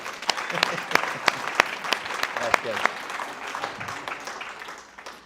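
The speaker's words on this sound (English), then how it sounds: "now a big round of applause." Audience applause rises at an event honoring Kris Lindahl, dense clapping with sharp louder claps throughout, fading toward the end, with a short spoken remark over it.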